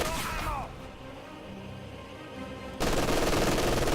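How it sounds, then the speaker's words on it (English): Machine gun fire in Company of Heroes 2, a dense rattling burst that starts abruptly and continues loudly to the end, with other battle sounds beforehand. "MG's in range, so he's going to start suppressing that rifleman"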